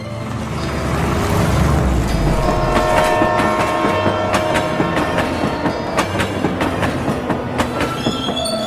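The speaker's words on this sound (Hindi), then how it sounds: "ट्रेन हवा से बातें करती हुई उनको गांव के स्टेशन पर पहुंचा देती है।" A cartoon train runs along the rails with a loud, continuous rumble, steady clickety-clack beats and faint squealing, ringing tones throughout.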